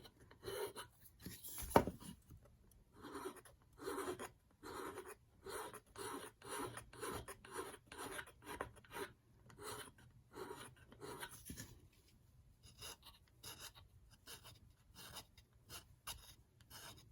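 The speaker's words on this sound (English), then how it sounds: "I just start going along the edge with the nail file, getting into the nooks and crannies." A nail file rasps along the edge of a wooden raccoon craft piece, in a steady series of short, close strokes repeating for the whole stretch, with a brief louder scrape early on and no talk.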